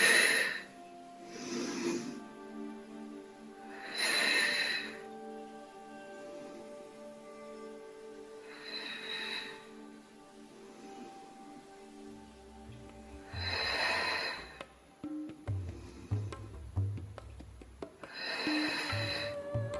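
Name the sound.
breathing, exhaling during a Pilates exercise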